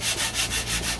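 Close, rhythmic rasping of 40 grit sandpaper rubbed by hand in quick back-and-forth strokes, about five passes in a second, alone with no talk.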